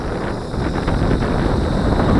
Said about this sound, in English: There it is, fighting 10 mile per hour wind.